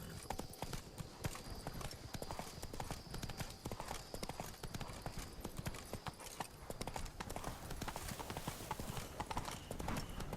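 The horse Roach galloping in The Witcher 3: Blood and Wine, a steady rapid drumming of hooves throughout, fairly faint and continuous, with a faint sustained tone in the background.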